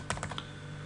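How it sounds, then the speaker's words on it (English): A few quick keystrokes on a computer keyboard, a short burst of four or five clicks close up and then quiet room tone. "now I'm just going to type HTTP"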